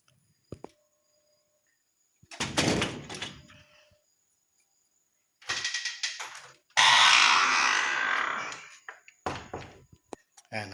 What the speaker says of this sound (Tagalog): nakasara na ang pinto natin